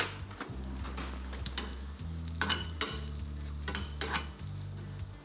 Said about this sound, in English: Our butter's melted, toss my brioche in.